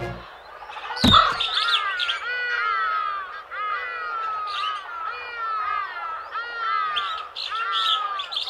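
Cartoon crow calls in a Hindi folk-tale animation: repeated bright chirping, squawking bird calls running continuously at close range, with a sharp knock near the start and no speech over them.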